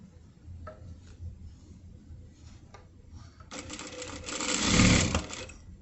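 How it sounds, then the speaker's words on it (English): Sewing machine stitching a sleeve onto a shift dress, starting after a quiet stretch with faint handling noises and then running in a loud, steady burst for about two seconds before stopping. "I'm going to sew."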